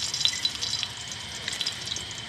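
A whole dried red chili fries in a little hot oil in a wok, giving a soft, steady sizzle with faint crackling pops and no voices.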